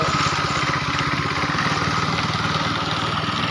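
A concrete mixer's engine runs at a construction site during a concrete pour, with a steady, loud, close chugging rattle.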